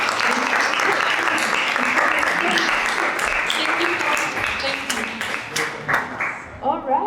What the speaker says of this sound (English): This is your applause, guys.